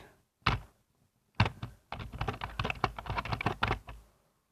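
A computer keyboard clacks close by as code is typed, first with two isolated keystrokes and then a fast, steady burst of taps that stops abruptly.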